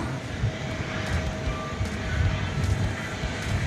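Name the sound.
Frontier airplane departing DFW Airport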